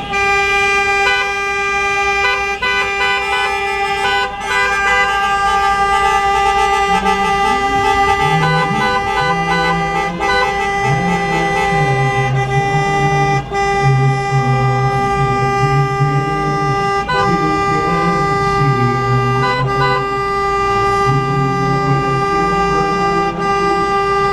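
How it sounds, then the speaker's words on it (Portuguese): Car horns honk in a sustained, overlapping blare during a 2020 religious procession for Nossa Senhora do Rocio, the steady tones holding loud and continuous for the whole stretch with no talk. "Buzinando alegre, louvando a Maria, nossa mãe"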